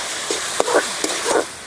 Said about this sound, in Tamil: தக்காளி பழம் செவக்க வறுத்து வதங்க வேணும்